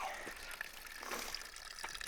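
Water flows and trickles down a muddy mountain hiking path in the Adirondacks in May, a steady, fairly faint splashing wash with no talk over it.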